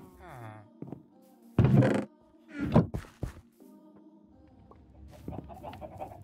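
Chickens cluck in the video game Minecraft, a few short clucks and squawks scattered among loud thumps and other game noises, with a person talking at times.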